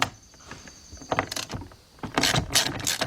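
A 3/8-inch drive ratchet works a bolt on the passenger-side outside mirror of a 2007 Chevy Tahoe 5.3, giving bursts of quick mechanical clicking and rattling between short pauses.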